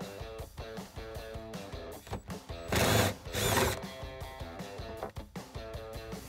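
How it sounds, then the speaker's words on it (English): A power tool with a 10 mm socket backs out factory bolts from the rear bulkhead of a 2016–2021 Toyota Tacoma Double Cab, close and steady with a whirring motor, brief revving bursts, clicks and handling noises. "Next step is going to be to remove 2 factory bolts that are in the rear bulkhead here"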